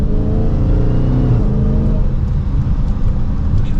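A Dodge Charger SRT Hellcat Widebody accelerates hard from second gear on the road, its supercharged engine roaring loud and steady from the driver's position with a rising whine and no talk over it.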